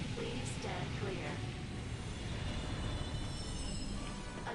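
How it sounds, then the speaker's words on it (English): A train pulling into a station in Ratchet and Clank (2016), a steady rumbling rail roar with faint wheel squeals, under a spoken announcement. "Train is now arriving. Please stand clear."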